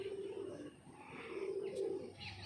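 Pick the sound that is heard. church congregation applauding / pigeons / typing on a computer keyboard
pigeons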